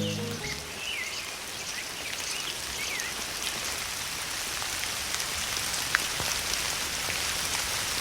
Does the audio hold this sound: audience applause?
no